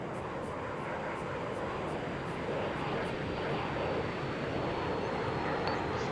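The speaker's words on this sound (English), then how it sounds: "we have a jet in the air" A jet flies overhead on a battlefield in the video game Arma 3, a steady loud engine roar and rush of air that holds without a break.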